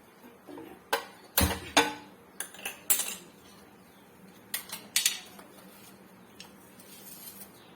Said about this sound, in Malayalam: അതിനൊരു പാൻ അടുപ്പയിലോട്ട് വെക്കാം